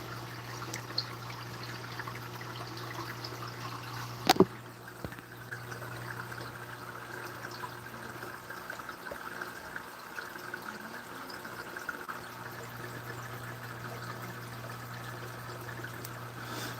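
Steady trickling stream of an aquarium filter return pouring into the tank, faint and continuous, with a low hum running underneath and one sharp knock early on.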